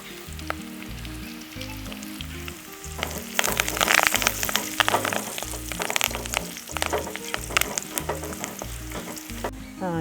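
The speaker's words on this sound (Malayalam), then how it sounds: "കരിയാപ്പില ഇടുകയാണ്." Curry leaves sizzle and crackle in hot oil while making a beef pickle, a steady close frying hiss with sharp pops that grows busier partway through, without talk.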